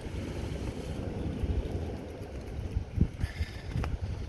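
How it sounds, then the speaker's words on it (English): Strong headwind of about 20 mph roaring across a microphone on Chesil Beach at night, a steady low rumble with gusty buffeting and faint surf beneath, no voices. "Especially when you've got a headwind like I've got tonight, blowing about 20 mile an hour"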